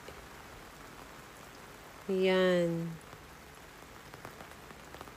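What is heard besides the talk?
heavy rain falling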